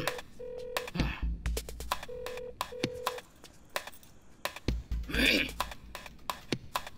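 Several short steady telephone dialing tones for a video call sound one after another, close and clear, mixed with clattering and brief bursts of noise.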